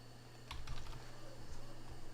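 A computer keyboard is typed on to enter a power plan name in Windows 10, a short burst of faint, quick key clicks over a low steady hum.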